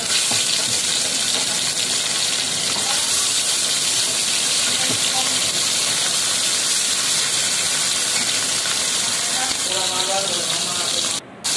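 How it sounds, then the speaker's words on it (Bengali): Fish pieces fry one by one in hot mustard oil in a heated wok, producing a loud continuous hiss and sizzle close up, with a voice heard briefly over it. "তেলটা গরম হয়ে গেছে, এবার এক এক করে আমি মাছগুলো দিয়ে ভেজে নেব।"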